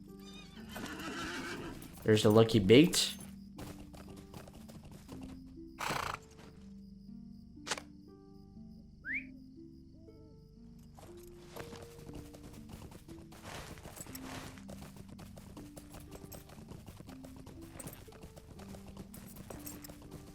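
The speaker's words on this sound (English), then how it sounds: "Let me get on my horse." A horse in The Lord of the Rings Online video game lets out a loud neigh, then clip-clops steadily through an outdoor area, with someone talking over the hoofbeats.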